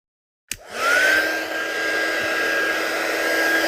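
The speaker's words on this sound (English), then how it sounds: "I'm going to bring up the heat gun now so we can activate this." A heat gun for card-making embossing switches on with a click and blows a steady, close, loud whooshing hiss with a thin high whine.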